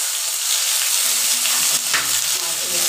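Onion drops into hot oil and sizzles loudly, a dense steady frying hiss with faint stirring noises underneath, close and continuous.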